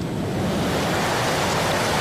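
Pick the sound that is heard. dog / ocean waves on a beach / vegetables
ocean waves on a beach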